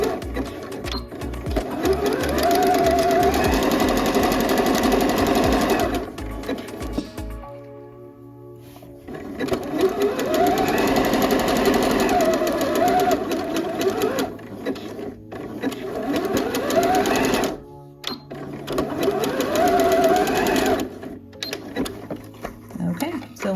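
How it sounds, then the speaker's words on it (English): A sewing machine runs steadily while stitching a garment's shoulder seam at a 5/8 inch allowance with backstitching, whirring in three long bursts separated by short pauses, close and loud with no talking. "I'm going to stitch my shoulder seam again from the outside in, and then I'm going to stitch the other side the exact same way."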